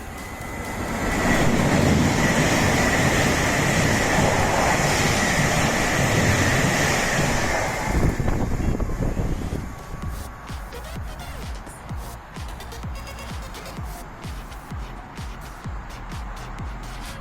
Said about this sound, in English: Right, the train now approaching platform 1